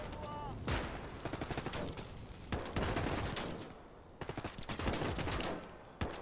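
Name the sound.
flamethrower setting fire in video game Gates of Hell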